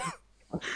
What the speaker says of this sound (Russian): Что это как бомж кашляет?